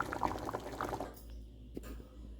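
Potato sambar is poured from the pot into another bowl, a short thick liquid glug lasting about a second, then near silence with a faint clink.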